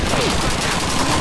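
Dense, rapid gunfire from World War II weapons in the video game Call of Duty 2 during a city hall battle, loud and continuous bursts filling the whole short moment.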